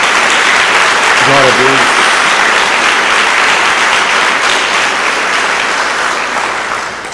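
A church congregation bursts into loud, sustained applause that fades slightly at the end, while a voice calls out over it.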